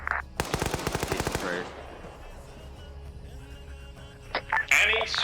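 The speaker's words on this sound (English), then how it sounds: "I do hear sporadic gunfire" Video game gunfire from an Arma 3 World War Two battle: a rapid automatic burst rattles close and loud, followed by quieter scattered sounds and crackling radio-like noise.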